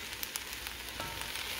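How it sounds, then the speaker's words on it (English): Fried rice with leftover pot roast sizzles in a pan, a steady faint crackling hiss with small pops throughout, no voices. "You can hear it sizzling maybe."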